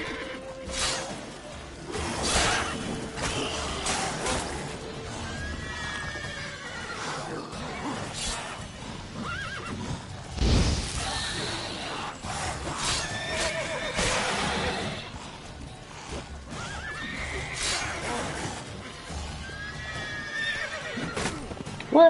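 A horse whinnies several times over steady clip-clopping hooves, with a crash midway, in a The Witcher 3: Wild Hunt game soundscape.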